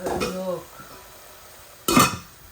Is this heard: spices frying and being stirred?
yes